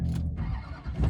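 A twin turbo Duramax diesel race truck in rough condition cranks and fires, giving a short, rumbling low engine churn with a stumbling rhythm that swells near the end.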